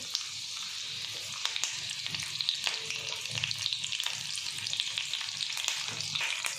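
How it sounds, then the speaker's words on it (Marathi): Curry leaves and green chillies frying in oil with mustard seeds and cumin, a steady crackling sizzle with faint occasional pops and light stirring, close and moderately quiet. "मोहरी जिरे चांगलं चळू द्यायचं आता हे तळल्यानंतर बघा थोडासा मी कढीपत्ता टाकून घेते"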